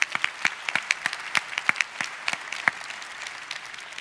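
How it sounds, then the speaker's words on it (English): An audience at a public day session of the 2018 International Astronautical Congress gives applause: distinct, fairly close claps that come in a brisk scatter, then thin out and grow softer toward the end. "yes, applause for him."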